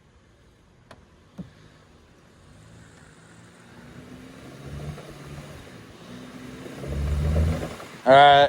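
A 4x4 backing out of sand: a low engine note builds steadily and strains louder over several seconds, ending in a sharp burst of noise, with a brief spoken word early on.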